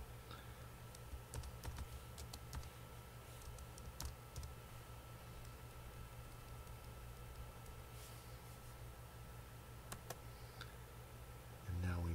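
Typing on a computer keyboard during an antiX install, faint scattered key clicks in short bursts over a steady background hiss, with soft talking in places.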